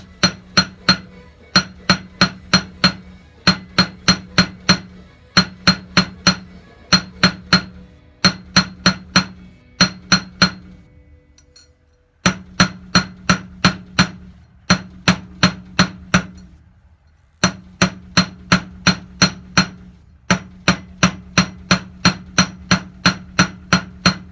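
Hand hammer repeatedly striking a copper ring held in tongs at an anvil, loud ringing metallic blows in quick bursts of four to six with short pauses, no talk.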